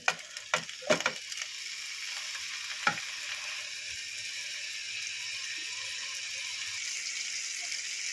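Potatoes frying in hot oil in a wok give a steady, faint sizzle throughout, with a few sharp clinks and stirring knocks near the start.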